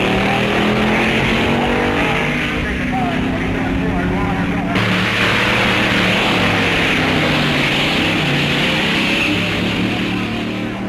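Drag race cars make time-trial test runs at a drag meet, engines roaring loud and steady throughout with a shift in tone midway, under continuous crowd and track noise.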